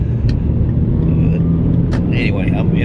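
A car merging onto a freeway gives a steady, close engine drone and road rumble from inside the cabin, with faint higher noises drifting above it.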